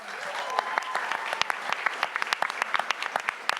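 Audience applause for the next speaker at a business ideas event, a dense burst of many hands clapping, steady and fairly close, with no voices over it.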